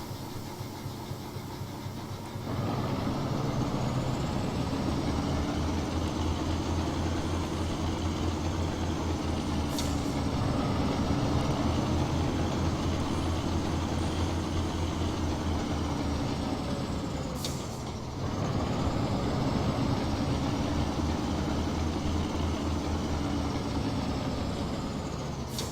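A Class 03 diesel shunter engine at Doncaster Works in Train Simulator 2016 runs with a steady low drone, rising slightly mid-clip, with brief dips and sharp clicks, continuous and loud with no talk.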